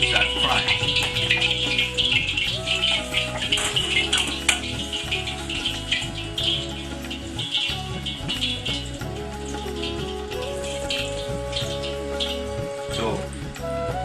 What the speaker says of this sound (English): the frikkadels are ready, so that's the time to start frying